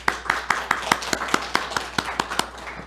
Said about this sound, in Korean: 우리 예배를 받아주신 하나님께 영광의 박수 올려드립니다